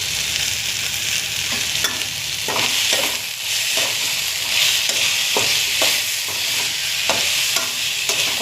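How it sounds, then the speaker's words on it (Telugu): Ginger frying in oil for a curry while being stirred, a loud constant sizzle punctuated by regular spoon scrapes and taps against the pan, close up and without talking. "కొంచెం కలుపుకోవాలి అల్లం వేగడానికి"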